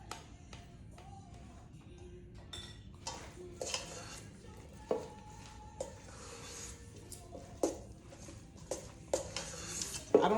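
A spoon stirs and clinks against a bowl of fruit salad with sour cream, giving sparse, quiet taps and scrapes at irregular intervals.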